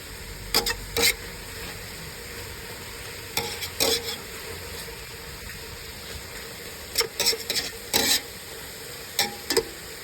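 Pork for Pangasinan-style igado sautéing over a high outdoor fire: a steady low sizzle broken by several short bursts of scraping and stirring clatter, fairly close and without talk.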